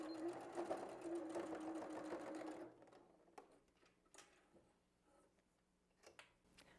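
A sewing machine stitches the fabric of a handmade bag, a fast steady whirring run for under three seconds, then stops, followed by faint handling clicks and rustles of cloth in a quiet room.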